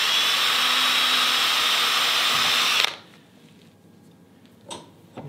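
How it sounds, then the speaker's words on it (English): A power drill bores a 1/16 inch hole down the middle of a wooden plane front knob, whining steadily and loudly for about three seconds before cutting off, followed by quiet with a couple of faint knocks. "I'm going to drill that 1/16 hole down the middle, just in case."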